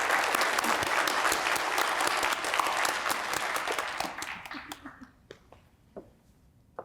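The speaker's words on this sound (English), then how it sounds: "You can clap for him." Audience applause for an honoree at a community college Hall of Fame ceremony, a dense sustained round of clapping that thins out into scattered claps before fading to quiet.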